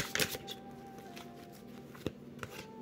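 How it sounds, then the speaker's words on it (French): Tarot cards shuffle and slide against each other as one is drawn from the deck, close, light papery riffles and a few crisp snaps with no talking. "Je vais juste tirer une autre carte hein, parce que je suis curieuse."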